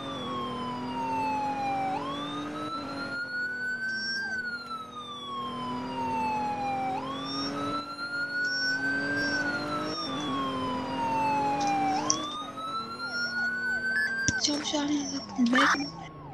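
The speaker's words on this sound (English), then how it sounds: "Federal QTB siren" A Federal Q fire truck siren in the Roblox video game rises and falls in long, loud sweeping wails, with a voice talking over it and a clattering burst near the end.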